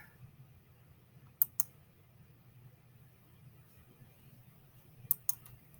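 Two pairs of sharp computer mouse clicks, heard while changing a Canvas course home page setting, come close and crisp over a quiet low hum, one pair early and one pair later.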